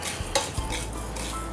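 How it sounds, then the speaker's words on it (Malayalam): Whole coriander, fennel, pepper and cumin are stirred while dry roasting in a pan without oil. Soft scraping and a few light utensil clicks sound close and quiet, with no talking. "എണ്ണയൊന്നും ഇല്ലാണ്ട് ഇങ്ങനെ ഇളക്കി ഇളക്കി മൂപ്പിക്കും"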